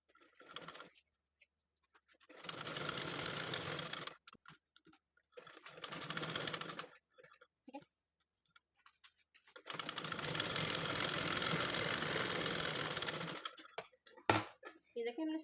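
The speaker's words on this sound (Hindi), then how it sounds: "इससे पहले हम यहाँ से सिलाई कर देंगे।" A sewing machine stitches fabric for baby shorts in several bursts of fast, rattling mechanical clatter, close and loud, separated by quiet gaps, with someone speaking Hindi around the stitching.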